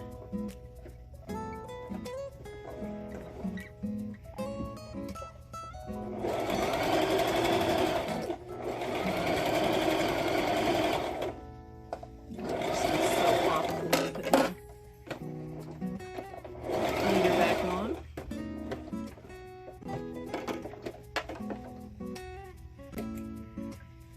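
A sewing machine stitching a seam on a churn dash quilt block, several sustained runs of rapid, even whirring separated by pauses with small clicks and handling noises.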